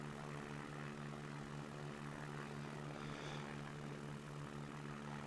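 Steady, close propeller airplane engine drone with a constant tone while the aircraft climbs in the X-Plane 11 flight simulator, heard alone with no talking.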